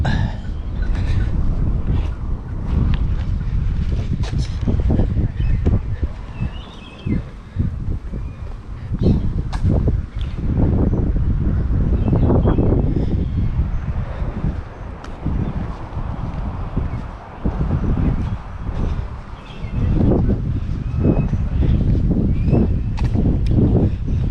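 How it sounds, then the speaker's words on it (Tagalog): Steady wind roars and buffets the microphone outdoors, a continuous low rumble with gusty swells and no clear talking. "Sarap ng simoy ng hangin."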